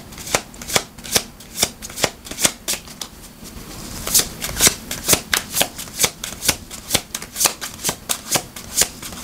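Tarot cards are shuffled by hand, a steady run of crisp riffling slaps and flicks repeating every half second or so, close and clear.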